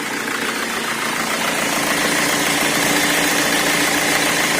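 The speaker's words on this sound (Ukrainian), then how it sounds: "Ще продемонструю, як працює двигун" A Fiat Doblo engine idles steadily and evenly, a continuous mid-pitched rumble with a faint vibrating hum, close by and alone.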